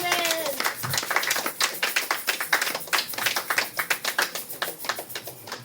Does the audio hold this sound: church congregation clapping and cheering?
yes